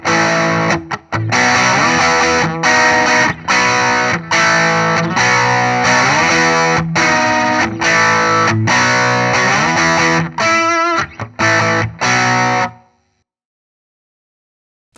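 Electric guitar driven through a TC Electronic Magus Pro RAT-style distortion pedal, loud fuzzy chords and riffs strummed in bursts with brief gaps, ending abruptly into silence.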